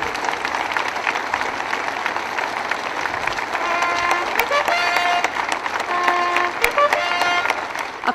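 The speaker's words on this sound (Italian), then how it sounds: "Accolto da un lungo applauso" Long, dense applause from a large crowd at a state funeral in Chieti, greeting the coffin at the cathedral of San Giustino, steady and sustained throughout with faint tonal band or whistle notes rising over the clapping.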